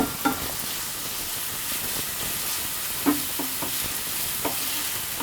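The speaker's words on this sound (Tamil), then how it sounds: "வெங்காயம் நல்லா வதங்கட்டும்." Onions for fish dosa sauté in a pan with a steady, close sizzling hiss, broken by a few soft scraping stirs; no one speaks.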